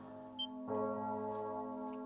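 A bell rings out in the video game Trails of Cold Steel 3, heard as a sustained resonant toll that swells at onset and hangs on with a steady tone, alone without talk.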